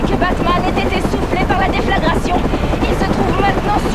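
A helicopter's rotor thumps loudly and continuously with wind roar, while someone talks over it excitedly.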